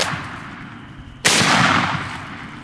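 A single loud, close shotgun blast fires at a coyote during a spring turkey hunt in the woods and bursts suddenly out of quiet background noise.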